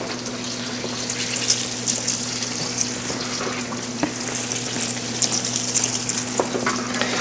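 Bread doughnuts fry in hot oil with a steady, close crackling sizzle and scattered pops, alone without any talking.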